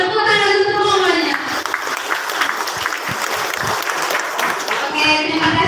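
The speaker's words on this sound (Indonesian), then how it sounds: "Tepuk tangan untuk mamanya." An audience at a student arts night for Christmas at a church station applauds in a sustained, dense wave of clapping, with a voice speaking briefly at the start and end.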